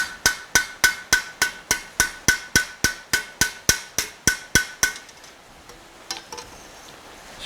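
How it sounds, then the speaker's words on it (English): A blacksmith hammers a shovel blade with a flat and ball peen hammer, about eighteen sharp, ringing metallic strikes in quick, even rhythm, then a pause with a few lighter taps, close and loud. "I usually start with the flat of the hammer and then move over to the ball peen."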